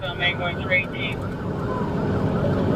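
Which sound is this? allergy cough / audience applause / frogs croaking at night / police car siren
police car siren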